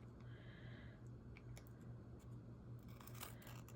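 Scissors trim excess plastic along a freshly sewn edge, giving soft repeated snips and crinkling close by under a steady low hum, very quiet overall.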